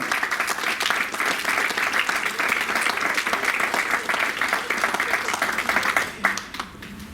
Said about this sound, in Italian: lo accogliamo con un grosso applauso, Andrea Franco della ditta Fomec